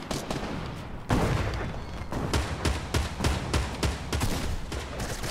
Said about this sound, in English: Hey, our team's getting shot.